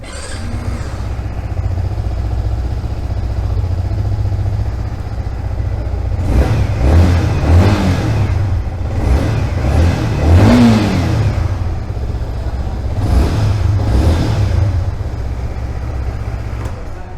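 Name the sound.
Yamaha MT 15 DLX motorcycle engine starting and revving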